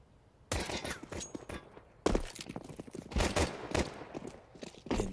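Gunshots during a professional Counter-Strike match at the PGL Cluj-Napoca group stage, sharp reports arriving in bursts after a short quiet start, with a fresh volley around the midpoint and scattered shots and footsteps between, moderately loud.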